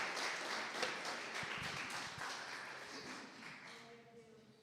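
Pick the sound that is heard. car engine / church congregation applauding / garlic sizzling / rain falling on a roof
church congregation applauding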